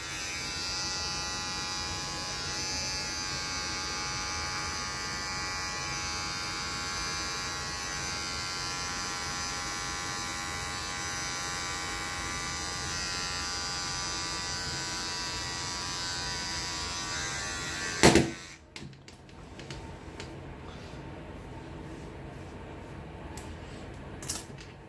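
An electric beard trimmer buzzes steadily while cutting a full beard, a close, continuous hum lasting most of the stretch before it switches off with a sharp click, followed by faint handling noises.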